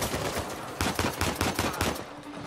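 Rapid bursts of gunfire ring out in the Uncharted 4 video game, several sharp close shots in quick succession during a chase before they trail off.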